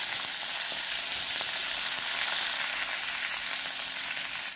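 Sliced onions fry with curry leaves and mustard seeds in hot oil, giving a loud, dense, continuous sizzle with faint stirring ticks underneath.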